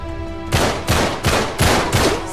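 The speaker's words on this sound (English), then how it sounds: "So many shots." Gunfire in the Uncharted 3 video game: five loud, sharp shots spaced about a third of a second apart, each with a short ringing tail, heard up close and alone.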